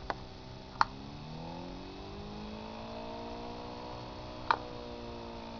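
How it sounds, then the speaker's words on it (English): Hand-built Bedini lid motor spun up by a switch and potentiometer, a steady electrical hum with rising whining tones as it gains speed, punctuated by a few brief sharp clicks, quiet and alone. "I can depress this switch and rev the motor up"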